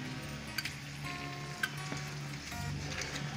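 Broken cinnamon, four cloves and four green cardamom pods sizzle quietly in hot oil for a curry, a soft steady crackle with a few small pops and ticks.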